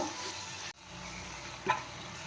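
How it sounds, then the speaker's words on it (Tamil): Tomato fries with chilli powder in a pan, a steady soft sizzle with a faint stirring scrape, quiet and continuous. "மிளகாய்த்தூள் போட்டுக்கணும் இது நல்லா ஃப்ரை ஆகணும்"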